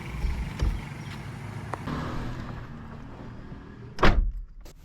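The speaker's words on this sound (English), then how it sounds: "Actually not the best sound when you close the door" A 2016 Suzuki Alto car door shuts with a solid thud, followed by a short rattle, after quiet outdoor rumble and faint movement.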